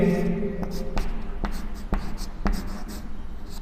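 Writing on a board during a geography lesson produces a series of distinct strokes and taps at a fairly regular pace, close by, with a voice present in the background.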